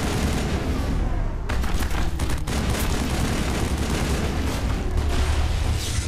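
Gunfire in Mass Effect crackles in rapid bursts of sharp shots over a dense, noisy background, loud and close, with a few heavier impacts mixed in.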